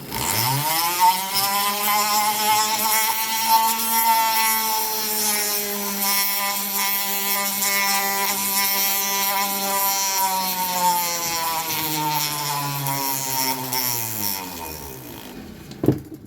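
Rotary tool spinning sandpaper inside the port of a Husqvarna 3120XP chainsaw cylinder, a sustained high whine that dips and rises in pitch as the load changes, close and steady before cutting off.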